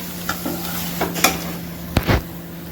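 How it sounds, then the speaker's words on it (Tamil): An egg-stuffed chapathi fries in a pan, giving a steady sizzle with a few sharp scrapes and taps of a spatula near the end, close up and fairly loud. "இப்போ நம்ம இதை எல்லாத்தையும் ஃப்ரை பண்ணி எடுத்துடலாம்"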